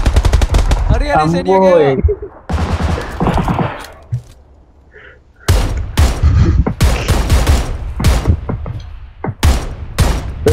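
Rapid bursts of automatic gunfire from the battle royale game PUBG Lite on PC, loud and close, broken by short gaps, while friends chat and react over the shooting.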